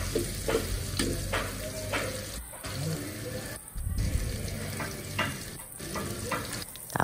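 Garlic and onion sautéing for mussel soup make a loud, close crackling sizzle with stirring scrapes, broken by a few short near-silent pauses.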